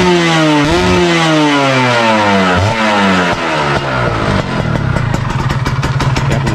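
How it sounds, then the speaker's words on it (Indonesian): A Kawasaki RR150 two-stroke motorcycle engine runs close by, loud, climbing and falling in pitch as it is revved, then settling into a rough, rattling idle. "Ya, motor hidup lagi tu, okey tu."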